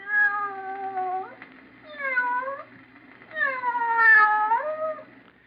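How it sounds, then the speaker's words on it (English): Radio sound effect of a cat meowing: three drawn-out, wavering meows separated by short pauses, clear and close with no talk. "Just a sound effect. But in your imagination, didn't you picture a cat meowing?"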